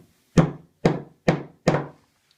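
A hammer taps a molly anchor into sheetrock with four sharp, evenly spaced knocks, close and loud, each dying away quickly in an otherwise quiet room.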